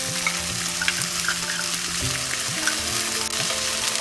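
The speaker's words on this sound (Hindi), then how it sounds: "वेजिटेबल्स भी हाफ फ्राई हो चुका है। अभी मैं इसमें ऐड कर रही हूँ जिंजर पेस्ट" Vegetables half-fried in a pan with ginger paste added, sizzling steadily and loudly with a few sharp spatters and stirring scrapes throughout, no voices.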